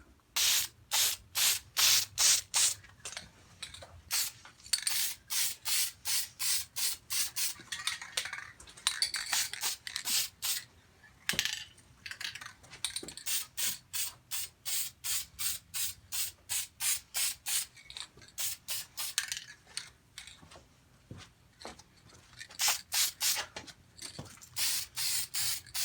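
Duplicolor Metalcast aerosol paint is sprayed in repeated short hissing bursts, a steady rhythm of quick pulses with a few longer sprays and brief pauses, close and fairly quiet.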